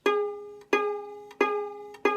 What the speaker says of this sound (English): You can see that sounds kind of out of tune.